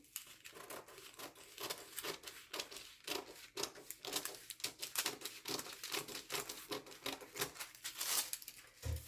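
Scissors cut out the front piece of a paper skirt pattern, giving quiet, close, rapid snipping and crinkling of paper in an uneven continuous rhythm.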